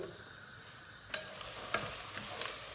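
Onions sautéing in a pot for a bean dish, a soft close sizzle with occasional light stirring clicks and scrapes.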